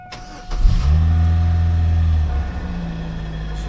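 Running 2002 Chevy S10 with a 2.2L four-cylinder and a noisy timing chain, the engine catching and settling into a loud, steady idle hum close by, with no talking.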